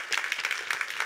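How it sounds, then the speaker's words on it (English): Audience applause for event volunteers at a medical conference opening, with a brief burst of steady, fairly close clapping. "I want to take a moment to give them a round of applause and to thank them"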